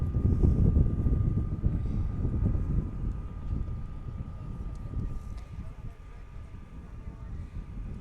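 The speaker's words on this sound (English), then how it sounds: "the winds are gusting" Gusting wind buffets the microphone in an upper commentary booth at an outdoor junior ultimate frisbee championship match, a loud, continuous low rumble that swells and eases steadily throughout.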